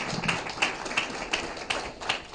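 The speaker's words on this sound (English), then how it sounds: "Let's give Carolyn a big round of applause." Audience applause at a community conversation event, a short burst of scattered, fairly quiet hand claps with uneven rhythm and no voices.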